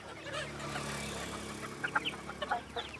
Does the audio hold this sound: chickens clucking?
yes